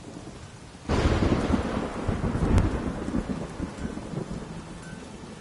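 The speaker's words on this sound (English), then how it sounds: "There's no point standing here in the rain." Heavy rain pours steadily in The Witcher video game, with a sudden rumble of thunder swelling in and a sharp crack midway, loud and close, with no voices.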